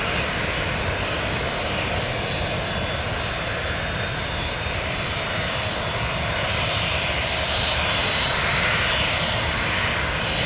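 A Piaggio P.180 Avanti turboprop aircraft on the runway gives a steady, loud engine roar with broadband hiss that holds for about ten seconds. It builds slightly toward the end, and no one speaks.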